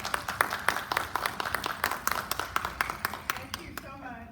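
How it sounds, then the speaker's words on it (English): Applause from an evening event audience for a guest speaker at a book awards gathering, a sparse crowd with distinct, regularly spaced claps that thin out near the end, with talk beginning faintly over the closing moments. "let's give a big round of applause to our guest speaker tonight, Kristin Henning."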